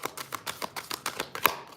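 A deck of tarot cards being shuffled by hand in a room, a rapid series of crisp riffling bursts about every fifth of a second, soft and close, with one sharper snap near the end.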